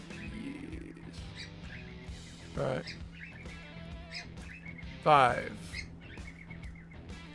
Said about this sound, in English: Sorry for the bird noises in the background.